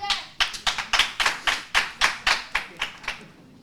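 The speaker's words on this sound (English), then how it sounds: "Crowd getting behind Davide" A crowd at a Brazilian jiu-jitsu submission match claps together in a steady rhythm, about a dozen sharp, loud claps spaced roughly a quarter second apart before fading.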